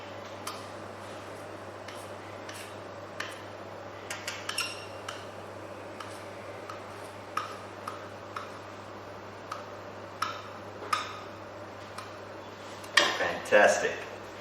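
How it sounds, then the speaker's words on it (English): A knife cutting gnocchi dough on a board, with a series of light, evenly spaced taps that end in a brief louder clatter near the finish, all over a low steady hum. "we take our knife and we cut it into even sizes at a little bit of an angle"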